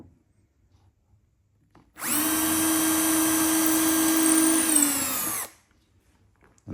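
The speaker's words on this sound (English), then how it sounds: "So I can start pilot drilling it now." A power drill pilot-drilling holes in plywood for a tool chest whirs at high speed for about three and a half seconds, a loud steady whine that slightly shifts pitch before stopping, with quiet surroundings.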